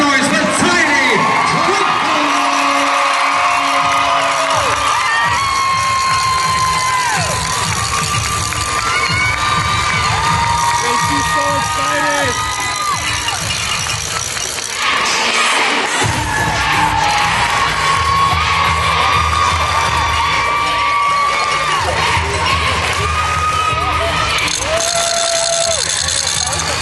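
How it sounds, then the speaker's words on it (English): A packed arena at a youth cheerleading competition erupts in loud, sustained cheering, with high-pitched children's screams, whoops and shouts layered over a dense crowd roar that stays intense throughout. "make some noise for Tiny"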